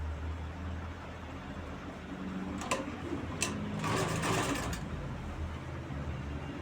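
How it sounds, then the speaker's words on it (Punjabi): A sewing machine stitches a neck band onto a garment, running with a steady close whir and a few short, faster bursts of stitching partway through. "ਇਥੋਂ ਆਪਾਂ ਬੈਂਡ ਦੇ ਉੱਤੇ ਸਲਾਈ ਮਾਰਨੀ ਸ਼ੁਰੂ ਕਰਾਂਗੇ"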